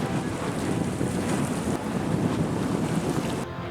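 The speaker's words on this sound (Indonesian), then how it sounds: "Hujan deras dan angin kencang melanda Pelabuhan Merak sejak semalam hingga pagi tadi." Heavy rain and strong wind at Merak port, Banten, a dense steady roar of gusts and downpour with no talk, close and loud until it drops off abruptly near the end.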